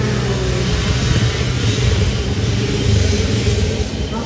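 Dirt bike engine revving hard during a race, a loud, close, buzzing roar that surges and wavers continuously with no talking.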